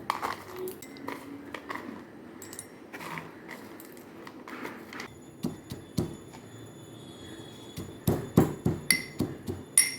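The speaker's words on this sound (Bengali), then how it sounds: "চিনা বাদামও আমি একটু হামল দিস্তা গুঁড়ো করে নেব" Shelled peanuts are pounded in a mortar and pestle, giving close, irregular clinks and thuds that turn into a faster run of sharp, rhythmic strikes toward the end.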